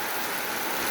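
Steady rain falls on a pond, a dense continuous hiss of drops striking water and nearby surfaces, close and fairly loud with no voices.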